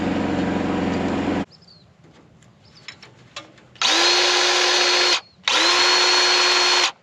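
A grease gun pumped while empty, heard as loud harsh mechanical whirring bursts: one long run, a pause with faint clicks and handling noise, then two more sustained bursts close up.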